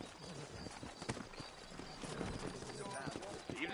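Horse hooves clip-clop in a steady trotting rhythm in the Western video game Red Dead Redemption, quiet and in the background under a man's speech.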